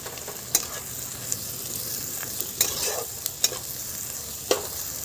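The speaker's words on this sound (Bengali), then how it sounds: "এবারে দিয়ে দেব রসুন আদা বাটা। ভালো করে কষিয়ে নেব আবারও।" Garlic-ginger paste sizzles in a pan while cooking prawn malai curry, a steady close fry punctuated by sharp scrapes and clinks of a spatula stirring.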